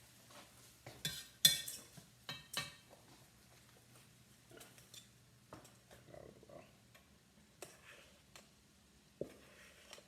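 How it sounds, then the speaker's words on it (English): A spoon stirring rice in a pot on low heat: scattered scraping strokes and soft clinks against the pot, close and fairly quiet, in irregular bursts with a faint sizzle between them and no talking. "So I want to stir the rice in there."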